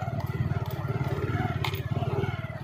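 Motorcycle riding along a road near a steel bridge over the River Sindh, engine putting out a steady, rough pulsing drone up close, with some clattering and faint voices in the background.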